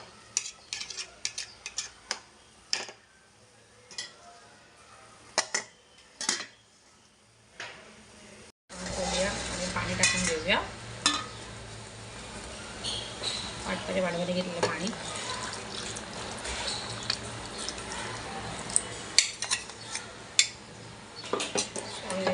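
Malvani-style chicken is stirred in a pot, with scattered metallic clinks and scrapes of a spoon against the vessel, close and moderately loud, followed by a denser stretch of stirring and kitchen noise while someone talks.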